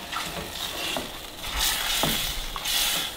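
Tamarind sauce is stirred and cooked over high heat with shrimp, giving a soft steady sizzle and bubbling, interrupted by a few brief clinks and scrapes of a spatula against the pan.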